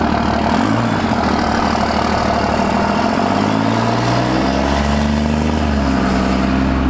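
A truck engine idles nearby with a steady low rumble and shifting drone, no voices.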